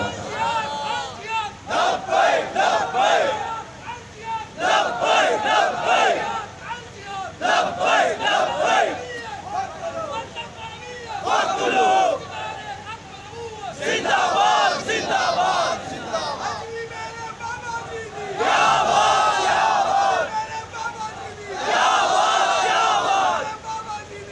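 A large crowd at an Urs gathering for Khadim Hussain Rizvi chants slogans in loud, rhythmic call-and-response bursts, roaring together in repeated waves with short pauses between shouts.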